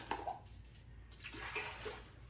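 Water poured into a pot for homemade apple pie filling being prepared for canning, a short, quiet splashing trickle with a few soft gurgles, heard alone.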